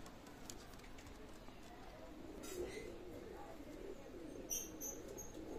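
Pigeons, including a pair of Pakistani teddy and double pigeons, coo softly at a pigeon dealer's loft, low faint cooing with a few chirps and a brief flutter near the end.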